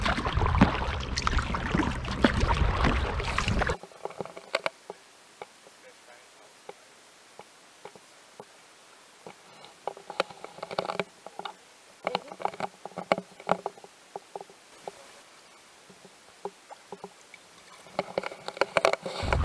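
Paddle strokes and light water patter from a canoe on the Ammersee lake, a steady rhythm of small splashes and ticks after a loud burst of wind or handling noise at the start.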